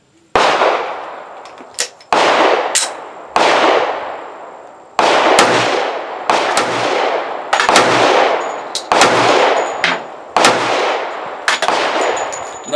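Springfield Armory XDm 10mm pistol firing 200 grain hard cast loads outdoors: about nine sharp, loud shots in a steady rhythm roughly a second and a half apart, each with a ringing decay and no talking.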